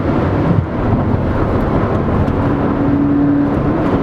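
A 2013 Scion FR-S sports car driven hard on a high-speed sweeper, its engine a loud steady drone with wind rush inside the cabin, a brief dip and surge as it downshifts with rev-matched heel-toe blips.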